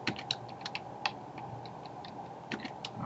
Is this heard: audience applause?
no